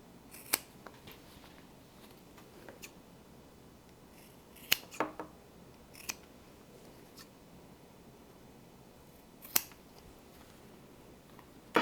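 Scissors trim the seam allowance on fabric in a sewing project, giving a few quiet, sparse, crisp snips with long pauses between them in a near-silent room.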